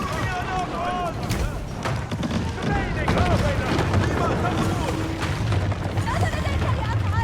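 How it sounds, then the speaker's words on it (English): Bombard cannon fire on a castle in a medieval strategy video game, booming impacts and crashes over a busy battle din, with a voice talking throughout. "My bombard's gonna take it down."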